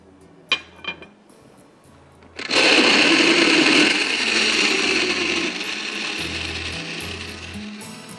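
Frozen blueberries go into a blender, with a few clinks first, then the motor starts with a loud, harsh roar as the berries are blended, easing slightly toward the end.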